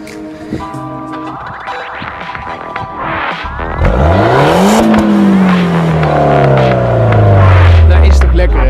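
A Peugeot 208 GTI accelerating hard, the engine note climbing through the gears in rising sweeps, close and loud, with people talking in the cabin early on.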